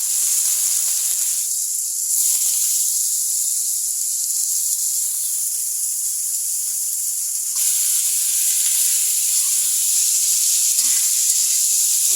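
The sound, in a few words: cabbage frying in hot oil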